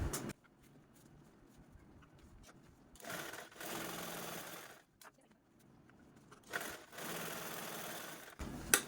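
Electric sewing machine stitching the sides of a cloth bag made from a blouse piece, running in a few steady whirring bursts of several seconds with quiet pauses between.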